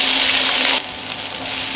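Onions sizzling loudly in about three tablespoons of hot vegetable oil, a dense steady hiss close up that drops slightly in intensity partway through.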